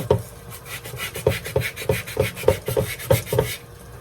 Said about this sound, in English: so I'm going to keep sanding away